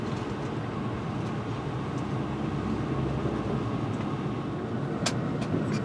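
Gondola cable car moving between Chillon, Gruyeres and Zermatt, a constant dense rumbling drone from inside the cabin with a few brief clicks and squeaks, no talking.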